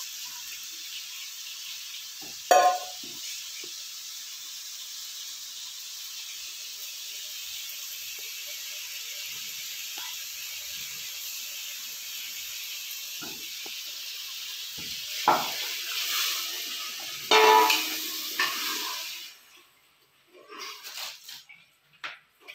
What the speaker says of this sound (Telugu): డీప్ ఫ్రై చేస్తాను.